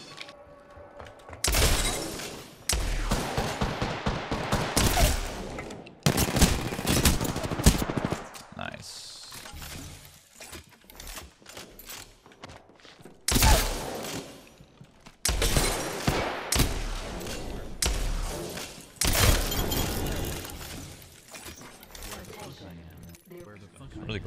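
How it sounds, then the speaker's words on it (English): Shotgun blasts from the video game Apex Legends, several loud bursts spaced through dense in-game combat noise, with a player talking and exclaiming over the fighting. "glad I had a shotgun in that situation"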